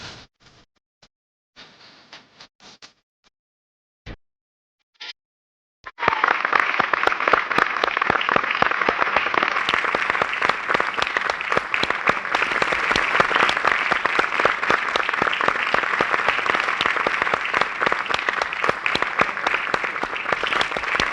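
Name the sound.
audience applause after a dance performance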